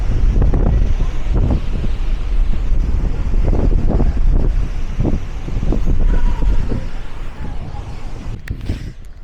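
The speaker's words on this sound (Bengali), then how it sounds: "যেরকম বাতাস হচ্ছে" Strong storm wind buffeting the microphone with repeated loud low rumbling gusts, and a person talking underneath.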